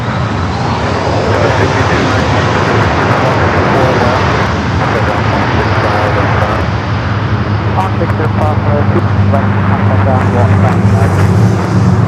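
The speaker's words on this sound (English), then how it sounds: "Austrian heading to the south side, the 777 to 300 ER coming from Vienna" An Austrian Airlines Boeing 777-300ER arriving at LAX from Vienna roars with a steady, loud jet engine rumble and whine that holds throughout, near and continuous, with people talking over it.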